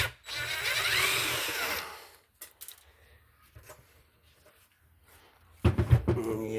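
A power tool whirs for about two seconds while a linear actuator is taken apart, then clicks and handling noises follow, and the motor runs again briefly at the end.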